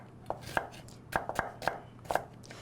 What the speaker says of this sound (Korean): 양파도 이렇게 썰어놔 주시고요.